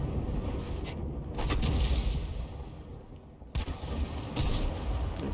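A 105 leFH18B2 self-propelled howitzer firing in a tank video game, heavy booming shots over rumbling engine noise, with a sharp loud blast partway through and further distant thuds.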